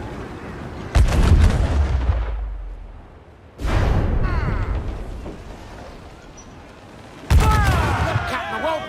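Ship cannons firing in the Assassin's Creed 4 Black Flag naval battle, three loud booming volleys with long rumbling decays, spaced a few seconds apart, with shouted crew voices in between.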